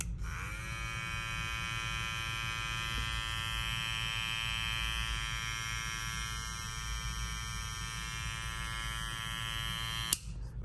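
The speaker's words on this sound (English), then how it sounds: "Very quiet trimmer." A Babyliss Lo-ProFX hair trimmer hums steadily and quietly after switching on, a constant electric buzz with a faint click near the end.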